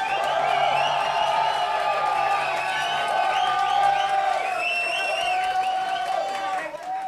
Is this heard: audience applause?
yes